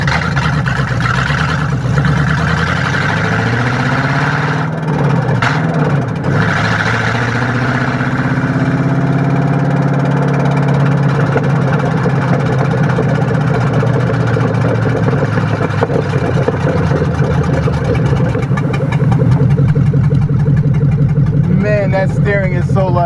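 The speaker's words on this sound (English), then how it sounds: "Right now with this car, it is loud." A loud car engine idles steadily nearby, a deep continuous rumble with some revving. Someone talks over it throughout.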